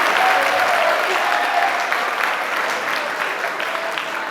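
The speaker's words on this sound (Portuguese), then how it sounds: "o André merece um aplauso" Audience applause at a TEDx-style talk, warm and continuous clapping from a crowd that stays fairly even and slowly tapers slightly toward the end, with no speech over it.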